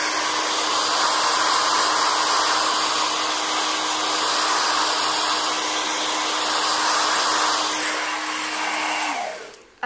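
A hair dryer running on its cool setting blows steadily and loudly for most of the time with a constant airflow roar and a low motor hum, then cuts off abruptly near the end.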